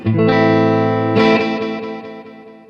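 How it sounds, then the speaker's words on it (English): Boss DD-3 digital delay pedal on a sustained guitar chord, the struck note blooming into long spacey repeats that roll and smear behind it, a second attack echoing and slowly fading out. "See in the background, almost like a rolling space echo."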